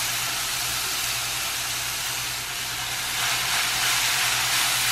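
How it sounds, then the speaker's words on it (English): Potatoes sizzling steadily in a hot pan in a home kitchen, a constant close hiss with a low hum underneath and no talking. "So none of my potatoes are exploding back out at me, but at the same time, I can immediately hear them start to sizzle and cook."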